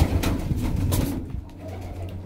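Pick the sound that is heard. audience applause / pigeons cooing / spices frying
pigeons cooing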